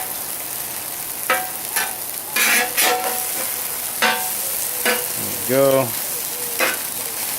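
Chorizo and egg frying on a Blackstone 17-inch propane griddle, a steady loud sizzle with scraping clicks as a spatula flips the food, and a brief spoken word.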